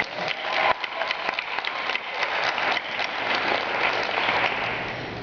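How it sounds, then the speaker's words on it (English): A graduation audience applauds in a steady wash of many hands clapping, sustained and fairly loud throughout, with no speech over it. "We owe ourselves a round of applause for that."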